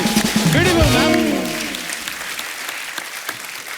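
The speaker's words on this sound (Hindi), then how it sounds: "ये अर्चना जी के लिए जोरदार तालियां होनी चाहिए।" Studio audience applause on The Kapil Show breaks out under a host's loud speech, then continues as a softer, fading clapping once the talk stops.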